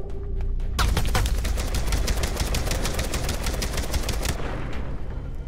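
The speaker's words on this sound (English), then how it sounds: "Muggs is shooting." Rapid automatic gunfire in the video game Beyond: Two Souls, a dense burst of loud close shots in quick succession lasting several seconds before cutting off.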